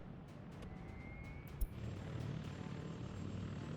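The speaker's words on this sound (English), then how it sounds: "The helicopters are already busy bringing in foreign workers to the local construction sites." Helicopters flying over a construction area in Workers and Resources: Soviet Republic, a faint steady engine drone with a brief sharp click partway through.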